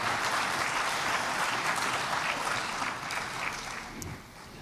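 Sustained applause from a crowd at a national honours investiture ceremony in the Bahamas, dense and even, fading slightly toward the end.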